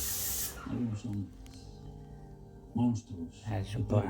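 A short burst of loud hissing spray from an Erbauer EAPS600 airless paint sprayer at the start, followed by someone talking over a quieter background.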